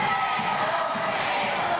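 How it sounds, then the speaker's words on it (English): A wrestling crowd at a World Wide Wrestling League show chants for Grado, a dense, steady roar of many voices filling the arena, distant and unbroken throughout. "And the crowd all chanting for Grado."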